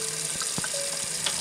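Water drains off rinsed grits in a short burst of splashing and trickling, with a few small clinks of the container in between.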